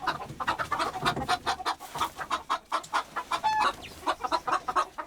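Hens in a winter farmyard cluck close by, a busy run of short overlapping calls with a higher squawk partway through.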